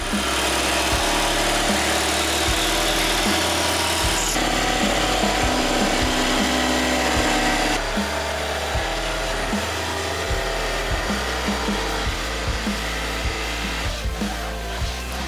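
A power tool cuts a track path into model railway scenery, a loud, steady grinding rasp that runs continuously with no voices.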